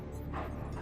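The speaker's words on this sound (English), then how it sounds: "Everyone's favorite infernal little demon dog." A demon dog in the video game Marvel's Midnight Suns gives a single short, muffled bark or yip over a dense in-game background rumble.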